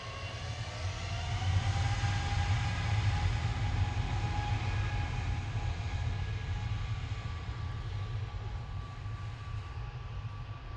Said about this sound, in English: EasyJet 2193 to Zurich there. A320 Neo GUJEA.